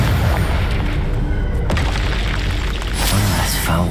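A Confringo spell explosion in Hogwarts Legacy: a booming blast around the middle, followed by crackling debris and another burst near the end.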